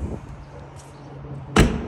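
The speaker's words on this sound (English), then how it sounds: "We'll close that door." Exterior compartment door on a 2023 Forest River Sierra 391FLRB fifth wheel trailer swung shut with a single sharp slam near the end, preceded by quiet outdoor handling noise.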